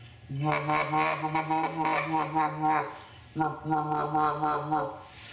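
Two sustained, buzzy low growls on a goose call, imitating the contented feeding murmur of geese, heard up close with a short pause between.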